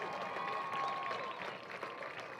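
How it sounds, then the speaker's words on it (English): A crowd applauds a high school marching band at a varsity football game, a steady broad wash of distant clapping and cheering sustained throughout at moderate level. "how about another round of applause for the Siloam Springs High School"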